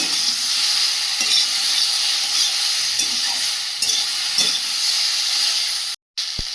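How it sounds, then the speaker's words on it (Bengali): Vegetables fry in a pan with salt and ground coriander, a bright continuous sizzle and hiss close by, broken by occasional stirring scrapes, then cut off abruptly for a moment near the end. "পরিমাণ মতো ধনিয়া গুঁড়ো দিয়ে ভালোভাবে কষিয়ে নেব সবজিটা"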